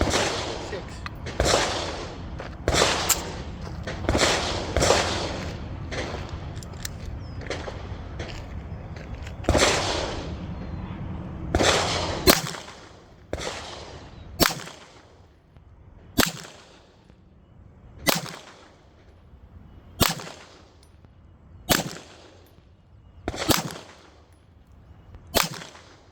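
Firearm shots at an outdoor shooting session, sharp loud cracks fired one at a time, the later ones at a steady rhythm about every two seconds, with the earlier stretch busier and more cluttered.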